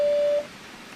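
Deep Hunter Pro metal detector sounding a steady electronic tone on finding a small, deeply buried target, holding clear and loud for under half a second before cutting off.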